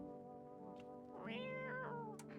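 A cat in a video game lets out one drawn-out meow, rising and then falling, clear and close against a quiet hum.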